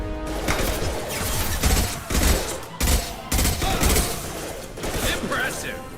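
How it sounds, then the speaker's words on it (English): High-impact gunshots from Mass Effect 2 ring out in several loud, sharp bursts spaced across the moment, with ringing tails between them and combat noise around them. "Firing a high-impact shot!"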